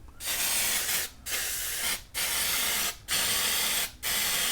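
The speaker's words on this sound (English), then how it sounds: "one thing you might notice is as we spray the one side" Hairspray hisses from an aerosol can onto the wooden parts of an Estes Mini Der Red Max model rocket in five loud, close bursts separated by brief pauses.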